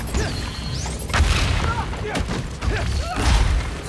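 Reactor explosion tearing apart the plaza in Spider-Man: Miles Morales, a dense stretch of rumbling booms, crashes and debris impacts layered with whooshing effects and speech.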